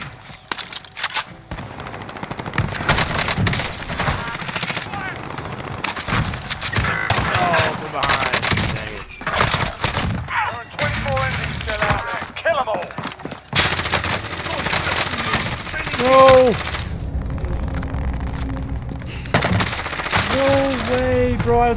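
An RPD machine gun fires in the video game Warzone, with loud, sustained bursts of rapid automatic gunfire over most of the stretch, mixed with other game sounds and voices.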